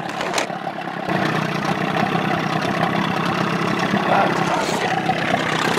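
A Johnson Evinrude 25 or 30 hp outboard motor runs close by with a throaty, busy, steady clatter after a brief quieter start, continuous throughout.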